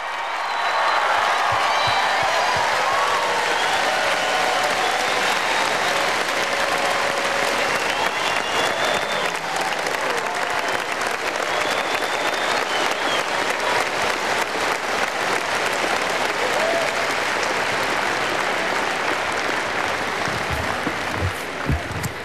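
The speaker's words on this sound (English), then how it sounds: "please give a big round of applause for senior Sarah" A big crowd at a Hawaii Rainbow Wahine volleyball match applauds and cheers for senior player Sarah Mendoza in steady, loud, sustained clapping that fills the arena from start to finish.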